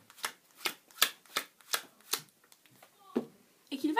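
Playing cards dealt off a deck one at a time, a series of crisp, close snaps and slides in a fairly regular rhythm, with a brief soft voice sound near the end.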